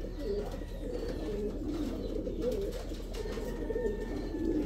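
Pigeons in a breeder cage give soft low cooing calls, repeated and overlapping against a quiet steady background hum, fairly faint and without talk.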